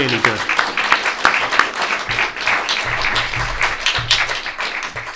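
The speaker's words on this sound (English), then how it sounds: "Let's give Philip a big round of applause, everybody." Audience at a lecture on Frank Buchman and Robert Schuman gives a warm round of applause, loud irregular clapping from a moderate crowd, with voices murmuring underneath throughout.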